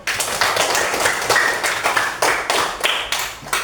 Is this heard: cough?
no